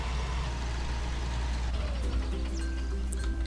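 A tractor engine idles with a steady low rumble in Farming Simulator 19 while bales are released, a constant drone with a shifting tonal hum joining partway through, no talking.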